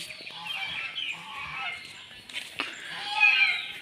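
Geese honk and cackle close by near a cowshed at an ashram in Jorhat, a few loud calls in succession with a person speaking faintly in the background.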